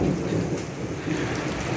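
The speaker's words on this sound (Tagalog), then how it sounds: "Kumukulog pa." Thunder rolls as a low rumble under heavy, steady rain pounding nearby surfaces near a building behind a mall during a hailstorm, with no voices.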